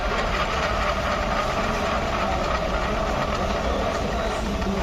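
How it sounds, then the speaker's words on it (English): A worn clutch shaft bearing makes a continuous grinding, rubbing drone under a running engine. The sound is loud, dense and unbroken for the whole stretch, and no one speaks. "Rubbing noise due to clutch shaft bearing worn out."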